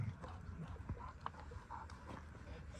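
Shepherd dogs on a mountain outing give a few short, scattered yelps and scuffles over steady outdoor rumble, fairly close but not loud.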